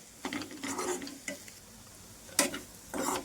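Ivy gourd fry with chilli powder is stirred in a hot pan, with bursts of spatula scraping and rattling over a quiet sizzle, clustered in short irregular strokes with pauses between.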